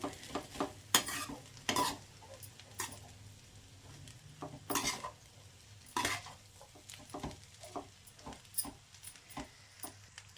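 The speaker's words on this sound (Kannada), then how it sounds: "ಈಗ ಹಾಗೆ ಮಿಕ್ಸ್ ಮಾಡೋಣ" A spoon stirs and mixes green pea rice bath, a breakfast dish of fresh green peas and rice with a little turmeric, in a pan. Repeated scraping and clinking strokes come close and moderately loud over a faint, steady sizzle.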